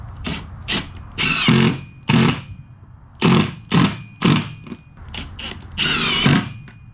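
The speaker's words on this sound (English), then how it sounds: "I'll go ahead and put the wood screws in" A power drill driving wood screws during E-Track installation in a Grand Design toy hauler: repeated short whirring bursts of varying length, close and fairly loud, separated by brief pauses.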